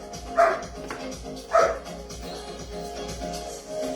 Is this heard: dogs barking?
yes